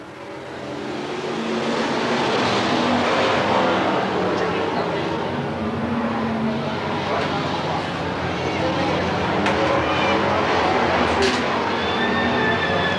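Race cars roar around the oval at Willamette Speedway during a heat race, a dense, sustained engine drone that swells as the field goes by, with a crowd and an announcer's voice over the top.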